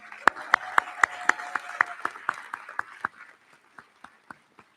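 Sharp, evenly spaced handclaps ring out about four per second at a commencement ceremony, loud at first and then thinning and fading over the final seconds.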